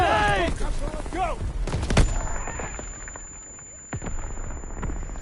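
A grenade blast and scattered gunfire in Call of Duty WW2 on D-Day, loud cracks and booms over shouting voices and whistling tones, easing into a quieter rumble with a high ringing tone and distant shots.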